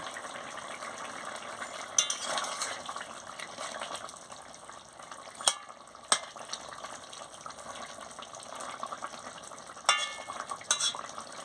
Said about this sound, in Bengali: এবার আমি মাছটা দিয়ে দিচ্ছি, মাছটা দিয়ে ভালো করে ফুটিয়ে নিচ্ছি।